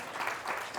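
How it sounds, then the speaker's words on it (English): Applause from a conference audience greeting the opening speaker, a soft, steady patter of many hands clapping, faint and distant, over less than a second. "So give a round of applause to our opening"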